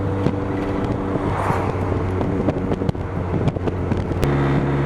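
A turbocharged Mazda Miata on the move, its engine drone steady with a constant rattling from the intake, heard from inside the car with wind noise.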